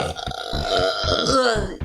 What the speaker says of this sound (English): I apologize if my burping gets annoying.